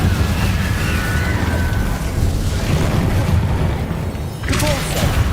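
An Incendio fire spell cast in Hogwarts Legacy erupts as a sudden booming whoosh near the end, rising out of a steady bed of game ambience and low rumble.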